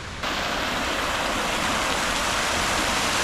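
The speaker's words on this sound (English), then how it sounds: "right opposite the building, you have the city park, where you have these really nice water fountains here" Water fountains in a city park in Sofia, Bulgaria, splash in a steady, dense rushing roar that swells in just after the start and holds loud and continuous throughout, with no talk.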